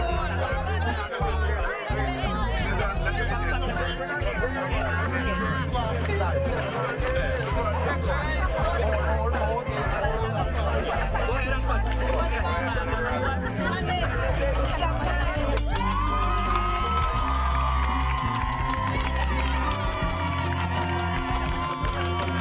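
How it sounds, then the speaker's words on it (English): Villagers cheer and applaud at a bridge-opening ribbon cutting, a busy outdoor crowd with shouting, children's voices and babble layered over music-like tones, continuous and fairly loud throughout. "Alfred Brown and Madeline Mile, cut the ribbon to declare the bridge officially opened to loud cheers and applause from the villagers"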